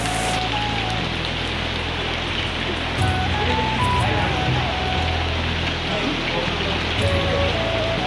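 Steady, heavy rain pours down at Bhimashankar temple in a continuous broadband wash, with soft voices briefly audible beneath it.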